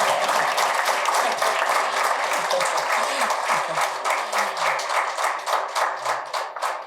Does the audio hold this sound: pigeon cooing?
no